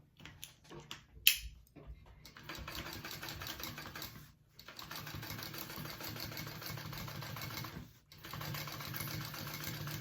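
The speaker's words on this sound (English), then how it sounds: "I'm going to sew through all those layers at a 1/4 of an inch seam allowance" A sewing machine stitches through several layers of a handbag at a quarter-inch seam allowance, running in steady bursts with two short pauses, close and alone without talk.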